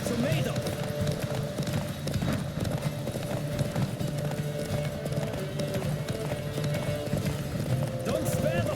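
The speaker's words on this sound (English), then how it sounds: "Don't spare the horse." Hooves gallop at a steady clip-clop during a horse race in The Witcher 3, with occasional neighs, fairly quiet beneath a game soundtrack and voices.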